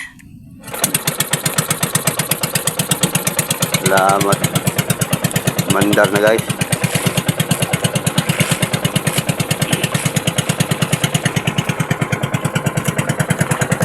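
A loud, steady boat engine putters at a fast rhythmic chug throughout, with two short bursts of someone speaking partway through.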